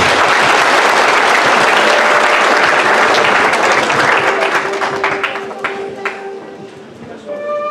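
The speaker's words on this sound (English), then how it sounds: "will you please give the TYs a big round of applause?" A crowd applauds loudly and steadily, the clapping thinning out toward the end as a few tones and scattered claps remain.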